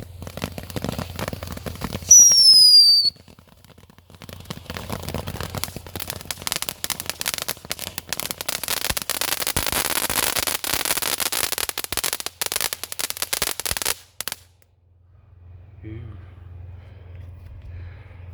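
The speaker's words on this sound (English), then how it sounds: "it's just gonna make a noise and probably shoot the little ground blooms out" Ground bloom fireworks set off at night, a whistling screech early on followed by a long dense spray of crackling and sputtering that cuts off abruptly, then near quiet with faint distant sounds.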